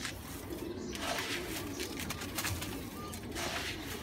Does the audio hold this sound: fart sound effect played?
no